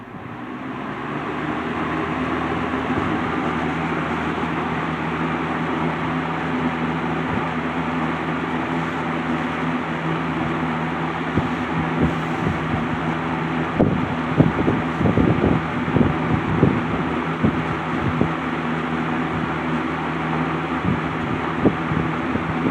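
A 1980s Lakewood S-223 20-inch box fan runs on high speed, giving a steady, loud whoosh of moving air with a low motor hum. Some faint knocking and handling noises come and go partway through.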